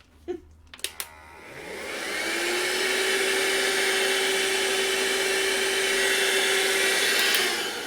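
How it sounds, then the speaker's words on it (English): A vacuum cleaner switches on after a few sharp clicks and knocks, its motor rising in pitch to a steady, loud, whining hum that runs continuously close by for the rest of the stretch. "This vacuum cleaner is my savior."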